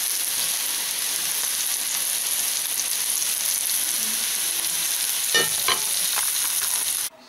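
Honey mushrooms fry in a pan with a dense, steady hiss and sizzle throughout, broken near the end by a short burst of utensil scraping and clatter.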